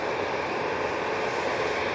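Continuous broadband roar of a passenger jet aircraft at Manchester Airport, steady and fairly loud with no voices.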